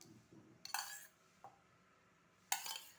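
A spoon clinks against a bowl while curd is added, giving a few quiet, close metallic taps with pauses between them.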